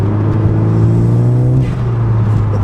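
A 10th gen Honda Civic Si fitted with a 27WON W1 turbo accelerates close by, its engine note rising under throttle with a whooshing turbo spool over a steady rumble, with no talking.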